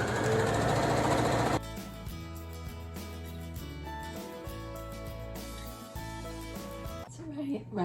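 A sewing machine stitches around the outside of a star quilt block with brief back-stitching: a loud burst at the start, then a steady mechanical whirr with rhythmic knocking that pauses and restarts near the end.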